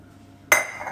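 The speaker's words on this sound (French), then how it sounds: "je vais prendre une casserole." A single sharp metallic clank of a pan being lifted breaks a near-silent moment, followed by a short ringing clatter.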